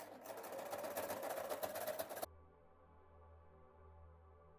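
A sewing machine stitches a simple hem at about 1.8 stitch length, a fast rhythmic whirr for about two seconds that then stops abruptly, leaving quiet background hum.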